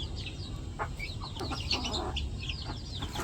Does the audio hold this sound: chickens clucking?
yes